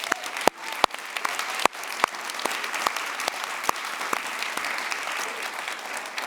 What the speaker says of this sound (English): Let's give all of our speakers and panelists a big round of applause.